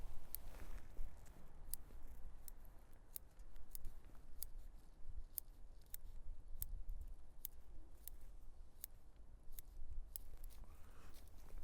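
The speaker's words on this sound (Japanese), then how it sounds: "葉っぱも切れるような柔らかい用のハサミ、結構高級なハサミだったりしますけど、 よく研いであるハサミなんかの方がきれいに" Sharp, well-honed bonsai scissors snip tree leaves in a steady run of crisp, quiet clicks, close by, with faint rustling between cuts.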